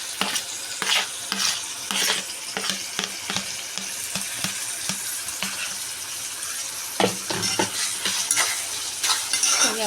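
Curry leaves and tomatoes frying in a pan for dry chicken, loud crackling sizzle up close, broken by repeated clattering scrapes of a spoon stirring the pan.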